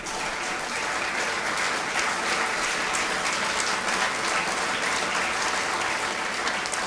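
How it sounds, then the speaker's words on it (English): Dense, loud applause from a large audience at an MBA batch inauguration ceremony, many hands clapping continuously and evenly throughout with no pauses. "Clap wholeheartedly."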